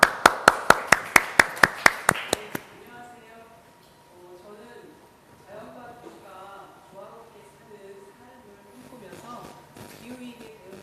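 Crisp, rhythmic unison clapping from a forum audience welcoming the head of a company called Yeou-ui Sup: about a dozen even claps for two seconds, then it stops and a speaker begins talking with soft music behind.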